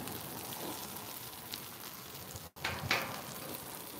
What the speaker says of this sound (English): Just gonna kind of let that fry up right on the griddle